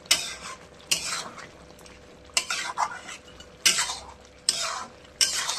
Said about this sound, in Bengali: এরকম আস্তে আস্তে এরকম করে কষাতে থাকবো, আরও সুন্দর কালার আসবে।